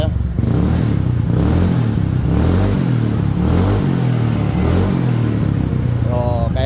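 A Yamaha Mio scooter engine with an aftermarket exhaust revs loudly and continuously up close, its deep rumbling exhaust rising and falling throughout.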